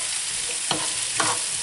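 Spiced courgettes are stirred in a frying pan over a steady sizzle, with two short scraping strokes of the spoon close by.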